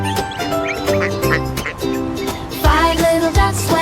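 A cartoon mother duck quacks several times over bright, steady backing music, the calls short and fairly close.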